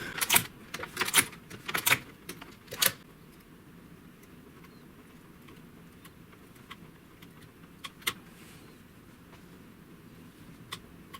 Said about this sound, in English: And now we will knit 2 rows.